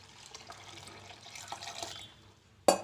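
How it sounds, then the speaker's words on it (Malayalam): Squeezed tamarind water is poured into a pot of sambar, a soft, continuous trickle and splash close by that ends in a brief louder splash, with no talk. "പുളി പിഴിഞ്ഞ് വെച്ചിരുന്നത് അതിൻ്റെ വെള്ളം ഒഴിച്ചു കൊടുക്കാം."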